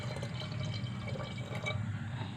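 Tamarind water poured into cooked dal for sambar gives a soft continuous trickle with faint drips and splashes, close and quiet, alone.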